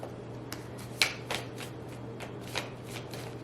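A deck of tarot cards riffled and shuffled by hand in a quiet room, several quick papery flutters and snaps spaced irregularly, close and fairly soft, with no talking.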